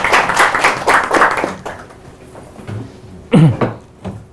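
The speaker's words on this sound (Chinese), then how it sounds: "那就下面我们掌声有请" Brief round of audience clapping in a lecture hall at Peking University's philosophy department, welcoming a lecturer, dying out after about a second and a half, followed by quiet room noise and a short thump.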